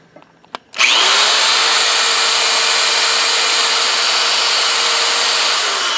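A power case trimmer whirs steadily and loudly as it trims brass 300 Blackout rifle cases, a continuous high-pitched motor and cutting whine that starts abruptly and holds for several seconds.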